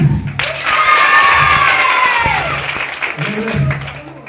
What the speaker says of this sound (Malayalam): Pero കൈയടി